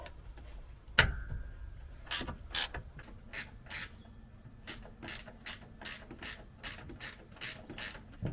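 Ratchet wrench clicking while removing bolts from a Honda CRX during a teardown, with a sharp clank followed by bursts of rapid ratcheting clicks in a steady, close rhythm.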